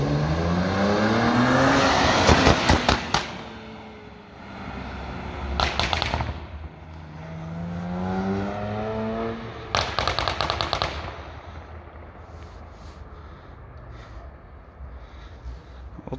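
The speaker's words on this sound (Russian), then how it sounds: "Такой вот звук у X6 получился сегодня у нас." BMW X6 E71 with a 3.5-litre petrol engine and Stage 1 popcorn tuning, revving hard in three loud bursts, each ending in rapid machine-gun-like crackles and pops from the exhaust, with lower engine rumble between.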